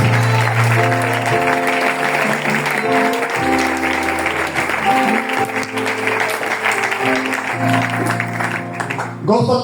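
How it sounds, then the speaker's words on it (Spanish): A church congregation claps and cheers during a sermon, with loud sustained clapping over steady organ or keyboard chords and some voices mixed in. "¡Aplaude a este Dios!"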